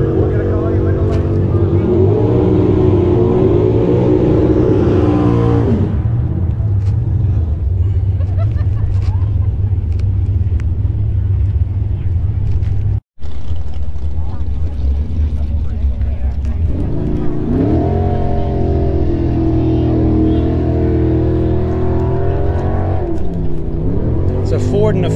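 A classic Oldsmobile hot rod at a drag strip, its engine rumbling loudly with a revving surge, then settling before building again, with a voice talking over it.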